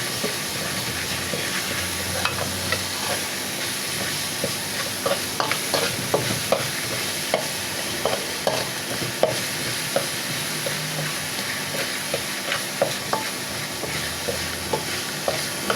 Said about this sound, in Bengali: তো ভালো করে মশলাটা ভেজে নিতে হবে